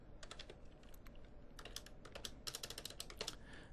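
Code is typed on a computer keyboard in rapid, irregular bursts of close, crisp key clicks over a quiet background hum, with no talking.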